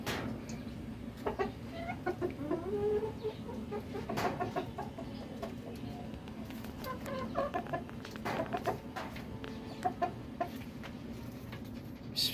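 Chickens cluck in short, scattered calls at a moderate distance over a steady low background hum, with one occasional louder call near the start and sparse bursts that continue throughout.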